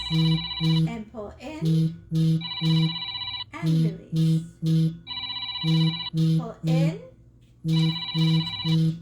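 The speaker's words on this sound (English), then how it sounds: "I'm going to apologize for the phone ringing" An indoor telephone rings repeatedly in a steady double-pulse pattern during a home core and pelvic floor workout, while an instructor keeps talking over the rings.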